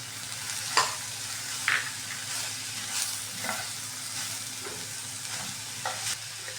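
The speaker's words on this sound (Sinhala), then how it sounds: "ඊළඟට සියඹලා ආයුෂ ටික එකතු කරගෙන හොඳට කලවම් කරගමු." A spoon stirs tamarind pulp into a sizzling pan of Sri Lankan seeni sambol, with soft scraping strokes over a steady frying hiss and a few sharper clinks against the pan.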